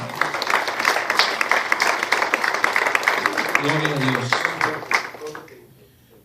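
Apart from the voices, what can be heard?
congregation applause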